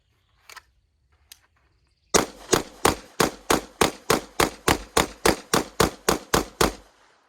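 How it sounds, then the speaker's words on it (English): A Wilson Combat EDC X-9 pistol fires a rapid mag dump at an outdoor range: about fifteen loud, sharp shots in an even, quick rhythm after a short quiet lead-in with a couple of faint clicks. "I'm gonna do a mag dump, see if I can hit it a few times."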